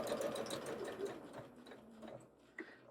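A sewing machine running gathering stitches along the raw edge of a doll dress: a close, fairly quiet, steady rapid whir that slows and stops near the end, with no talking.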